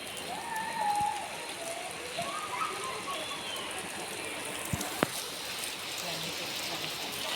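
Heavy rain pours steadily, a constant close hiss of drops on surfaces, with a few sharp knocks and faint voices in the background.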